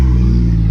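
A car engine at a car meet gives a loud, steady, low growling rev held throughout a very short burst, up close and alone with no voices.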